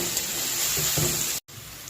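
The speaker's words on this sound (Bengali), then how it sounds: "আমি এটাকে নাড়াচাড়া করছি।" Salted, turmeric-spiced mixture for a paneer roll sizzling in a frying pan while being stirred, a close steady hiss with a brief scraping clatter and a short cut.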